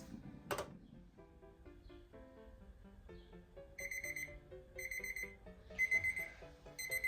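A kitchen timer goes off on a stovetop after fifteen minutes of cooking rice for onigiri, giving a run of rapid electronic beeps in repeated bursts that grow louder toward the end.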